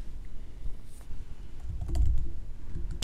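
Someone types a street address into an online form on a computer keyboard, producing a quick run of light, uneven key clicks close by with no talking.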